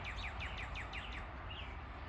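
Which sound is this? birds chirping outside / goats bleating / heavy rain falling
birds chirping outside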